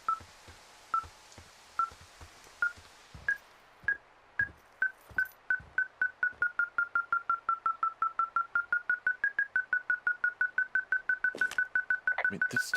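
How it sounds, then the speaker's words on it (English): Electronic equipment inside a tent beeps in the video game Firewatch. Quiet, repeated tonal beeps start widely spaced and then speed into a rapid, insistent series, with faint thuds and movement noises around them. "Why is it beeping so much?"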